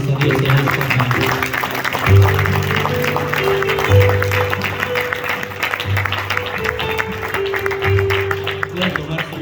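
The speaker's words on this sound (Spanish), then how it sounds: "Dele una ofrenda de palmas a Dios en esta mañana." Church congregation clapping during a Spanish-language worship service, a steady wash of applause across the room while music with a sustained bass tone keeps playing underneath.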